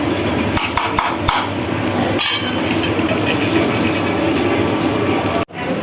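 A knife chops pointed gourd, potato and other vegetables on a hard surface in a home kitchen, giving sharp, close, irregular knocks with a few louder strikes early on and no talking.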